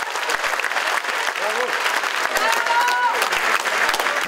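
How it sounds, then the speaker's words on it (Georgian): A concert audience gives a long, sustained round of applause to an 18-year-old Georgian pianist at the Rustaveli Theatre, a thick, steady clatter of many hands with faint voices mixed in. "მსმენელმა ქართველი შემსრულებელი ხანგრძლივი აპლოდისმენტებით დააჯილდოვა"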